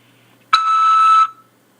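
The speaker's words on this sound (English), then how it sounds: "After the beep, press 5 to accept this call" A single electronic beep on a prison phone call system signals the caller to accept the call, a steady multi-tone note lasting about three-quarters of a second, loud and clean against a quiet line.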